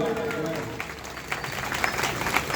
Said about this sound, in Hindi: जोरदार तालियों से स्वागत करिएगा